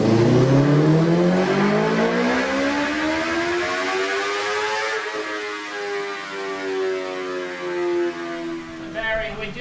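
A motorcycle engine revs hard on a dyno during a power pull, pitch climbing steadily to a peak and then falling away as it winds down, loud and continuous throughout.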